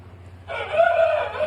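A rooster crows close by in a backyard chicken coop, one loud drawn-out call rising over a low background hum, with no talk over it.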